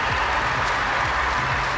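Steady, dense crowd applause from a capacity stadium audience in the London 2012 video game, continuous and loud throughout.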